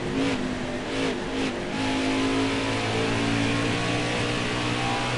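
A race car engine in a PS4 racing video game revs and accelerates with a steady, sustained drone that rises slightly in pitch, heard alone without talk.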